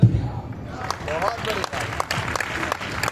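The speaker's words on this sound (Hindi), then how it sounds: "थोड़ा बढ़ाना इन तालियों को" Audience applause at a Hindi poetry recital, an all-India kavi sammelan, rising as a burst of scattered clapping and crowd noise while a voice talks over it.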